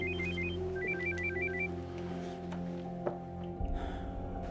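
A telephone rings with repeated electronic trilling bursts in a quiet room, clear and moderately close, before the rings stop and a handset is picked up with a faint rustle.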